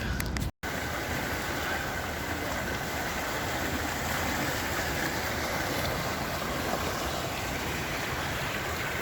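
A river flows through downtown Boise, Idaho, producing a steady broadband rushing wash that stays even and unbroken for the whole stretch, apart from a split-second dropout near the start. No one speaks.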